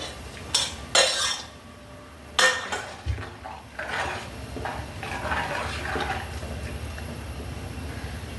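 Cut tomato pieces go into a pot of boiling water: several sharp metallic clatters and knocks from utensils on the pot early on, then a steady low rolling bubble of the boil underneath.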